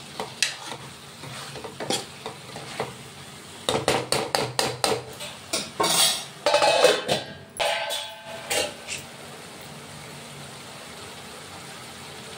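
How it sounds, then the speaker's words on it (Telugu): Food cooking in a pot, with a steady bubbling and sizzling hiss under a run of loud clattering stirs and knocks in the middle, then a quieter simmer to the end. "చూడండి ఎంత బాగా ఉడుకుతుంది."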